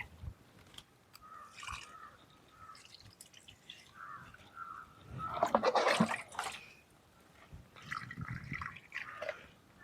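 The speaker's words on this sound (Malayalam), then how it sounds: "ഞാൻ ഇങ്ങനെ ഒഴിച്ച് കൊടുത്ത് ഉരുളക്കിഴങ്ങിനും എല്ലാം ഒഴിച്ചു" Water pours and splashes intermittently onto soil and the leaves of potato plants, faint and close, with small drips and rustling between pours.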